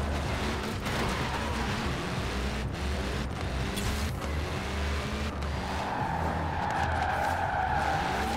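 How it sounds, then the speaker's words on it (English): A Ferrari passes by in Forza Horizon 4, engine roaring steadily with tire squeal and skidding throughout, loud and close over continuous car noise. "Ferrari goes by."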